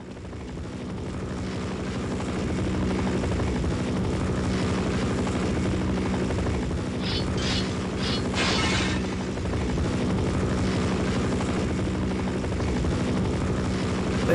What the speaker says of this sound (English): They were right, this is a crappy helicopter.